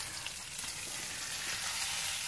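Bacon frying in a pan on a stove in a tiny kitchen, a steady, dense hiss and crackle of sizzling fat that holds constant throughout, close and without talking.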